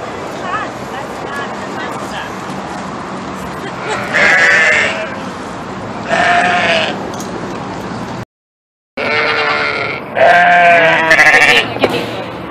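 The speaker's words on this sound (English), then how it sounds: "Are you challenging the goat?" Goats bleat at a petting zoo, with several loud, wavering bleats rising over steady crowd chatter and outdoor background noise.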